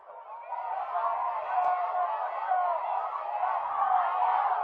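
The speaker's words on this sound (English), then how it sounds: "So the two student sections going at it here with a little cheering." Rival student sections cheering at a high school football game, a steady crowd roar of shouting voices from a distance that swells slightly toward the end.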